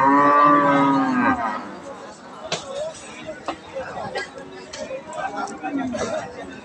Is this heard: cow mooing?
yes